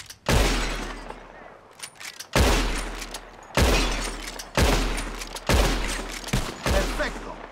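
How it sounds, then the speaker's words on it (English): Gunshots in Red Dead Redemption II hitting bottles, six sharp booming reports spaced about a second apart, each with a ringing tail and glassy shatter, loud and close. "Whoever shoots more of these bottles wins."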